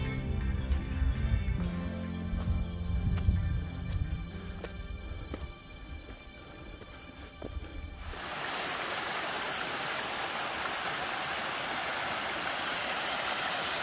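Mountain stream reached on a hike along the Areuse river, heard as a steady broadband rush of flowing water that takes over after about eight seconds, following footsteps and rustling on the trail.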